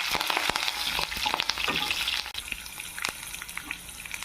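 Curry leaves and green chillies frying in hot oil with groundnuts for poha, a loud crackling sizzle with sharp pops and spattering bursts, close and without speech.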